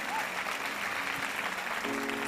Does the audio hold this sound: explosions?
no